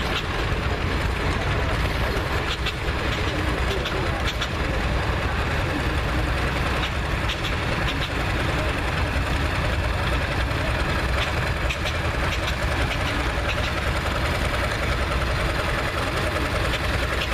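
A 1948 tractor idles steadily through a parade, its low mechanical rumble running continuously at moderate distance amid crowd noise and outdoor bustle, with faint voices mixed in.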